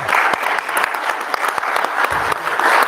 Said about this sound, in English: she's the one who deserves the round of applause